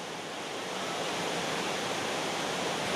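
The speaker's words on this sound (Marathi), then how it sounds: "मुख्य रस्त्याला खेटून असलेला हा धबधबा" A roadside waterfall at Nivendi village in Ratnagiri, Konkan, pours as a dense, even roar of falling water, steady and unbroken with no voices.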